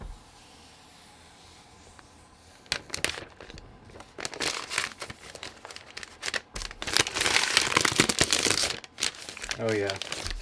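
Protective paper peeled off a new MacBook Pro, a run of crisp crinkling, tearing rustles building louder and busier toward the end, close to the mic, with a brief voice at the close.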